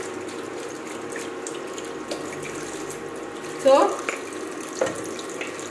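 Water runs steadily from a kitchen tap while a dirty plate is washed in the sink, a constant hiss with a couple of brief clinks and knocks; a voice says a single word over it.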